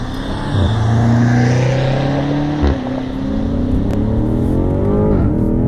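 A 2020 BMW M5 Competition's engine revving up and accelerating hard through the gears, loud and close, pitch climbing then dropping at each shift.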